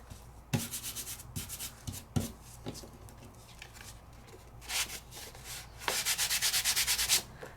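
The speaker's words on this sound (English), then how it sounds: "Give it a good burnish." Bursts of brisk rubbing as a craft paper die cut is burnished, close and dry, separated by a few sharp taps and quiet gaps, ending in a longer rapid run of strokes.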